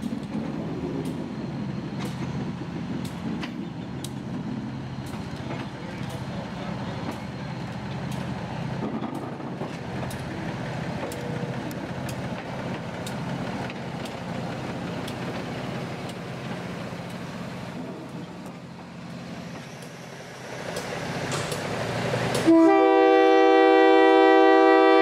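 A Budd rail diesel car on the Newport Secondary rumbles past with a steady engine drone and repeated rail clicks, then blasts a loud, sustained horn near the end.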